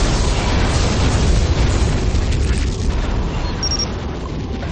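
A Borg vessel exploding in the space game Star Trek Legacy, a loud, continuous rumbling blast that holds steady and fades only slightly.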